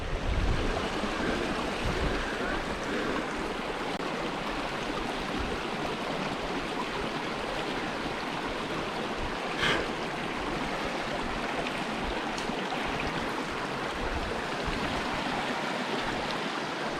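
Creek water flowing at Marrinup Falls makes a steady, broad rushing noise close by, unbroken throughout, with faint wind buffeting and no voices.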